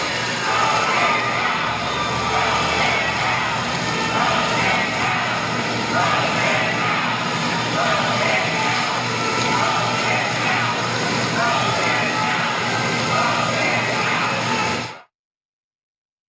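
A large crowd of protesters boos and shouts at Trump at a Supreme Court memorial for Ruth Bader Ginsburg, forming a steady, dense roar of voices that runs for about fifteen seconds and then cuts off abruptly.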